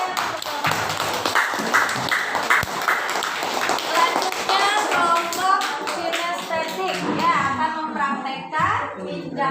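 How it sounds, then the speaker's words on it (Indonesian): Schoolchildren in an Indonesian primary classroom clap their hands together in a lively patterned burst, close and busy, mixed with children's voices and a teacher talking. "Tepuk tangan."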